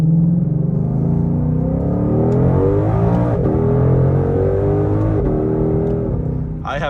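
A Ford Mustang Shelby GT500 engine pulls hard from inside the car, a loud deep rumble rising and shifting steadily in pitch as it accelerates under load.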